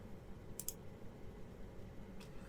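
A single computer mouse click on a Save button, a crisp double tick near the mic over steady low room hum, followed by another faint click later.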